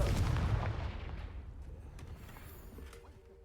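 A Confringo blasting spell explodes in the Hogwarts Legacy video game: a loud, booming burst opens the clip and then rumbles away gradually over a few seconds, with no talk.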